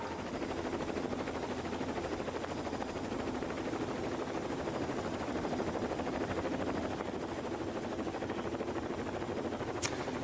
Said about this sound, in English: let's see the heli.